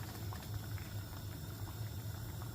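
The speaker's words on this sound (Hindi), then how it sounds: "तो अब मैं इसको तेज़ आंच पे करके और इसका पानी खुश्क करूँगी।" Steady bubbling of a pot of lentils boiling hard on high heat, a continuous low rumble with soft popping and no voices.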